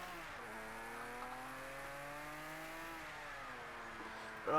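A Porsche race car in Project CARS 2 pulls away in second gear, its engine note climbing steadily in a smooth, sustained rising whine, loud and close, with no talking over it.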